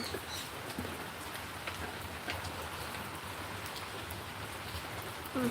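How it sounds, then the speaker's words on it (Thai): Steady rain falls in Pak Kret, Nonthaburi, an even, dense hiss of drops pattering on surfaces that carries on unbroken and fairly faint, with no voices over it. "ฝนตกค่ะที่ปักเกร็ด นะคะ จังหวัดนนทบุรีค่ะฝนตกค่ะ"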